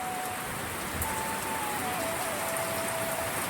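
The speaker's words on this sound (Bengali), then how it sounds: "আজকে দেখো কত বৃষ্টি দিচ্ছে" Heavy rain falling in a steady, dense hiss of drops on surfaces, continuous and moderately loud, with a faint tonal whine in the background and no talk.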